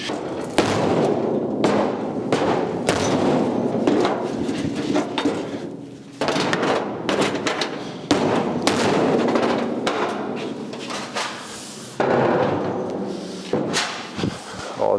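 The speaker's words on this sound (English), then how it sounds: "I think a few thumps with the big hammer" Loud, close hammer blows strike the metal trunk lid of a 1956 Chrysler 300 in irregular bursts, some in quick clusters and some spaced apart, each sharp thump ringing briefly.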